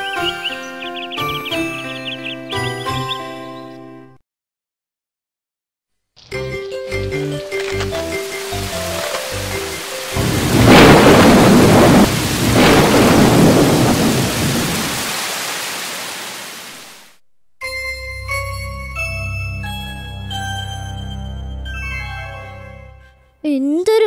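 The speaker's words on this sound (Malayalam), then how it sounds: "എന്തൊരു മഴയായിരുന്നു!" Heavy rain with rumbling thunder fills the middle of the storm, loud and steady, set between bright tinkling music passages before and after.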